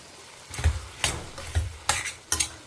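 Tomatoes sauté in a pan with a steady sizzle while a spoon stirs them in several distinct scraping strokes, close and moderately loud, with no talking.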